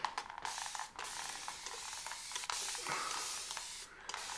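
A hairdresser's spray bottle mists water onto the face before shaving, several close hissing bursts with brief gaps between them.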